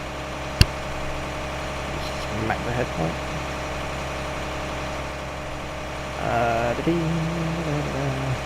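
A tractor engine idles steadily in Farming Simulator 19, a low continuous drone throughout with a brief sharp click early on and a voice speaking intermittently over it.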